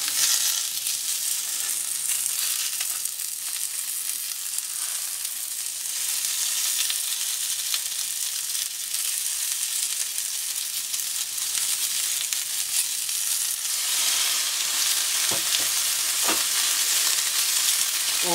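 Pattypan squash sizzles loudly and steadily in a hot pan beside grilled T-bone steak, potatoes and shallots. The close, continuous frying hiss is briefly broken by a few light clinks near the end.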